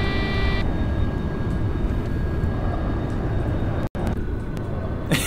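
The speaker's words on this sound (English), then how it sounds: "It's so fun and difficult to fly this airplane." SR-71 Blackbird jet in the X-Plane 10 flight simulator, a loud, steady engine roar with a high whine at the start and a momentary dropout near the end.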